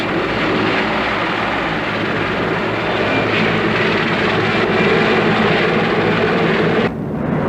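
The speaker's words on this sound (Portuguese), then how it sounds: "pensando que aqueles helicópteros e aviões pertencessem às forças destruidoras das pregações de Jones." Helicopters and airplanes fly over a jungle during a military operation, a loud, steady engine drone filling the whole stretch, which cuts off abruptly near the end.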